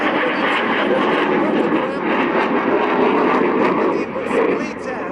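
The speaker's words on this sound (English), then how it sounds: "From your left, Major Luca Campello with his Typhoon is" A Eurofighter Typhoon jet roars past at an air show, a loud sustained engine rumble filling the whole stretch, with an announcer talking over it.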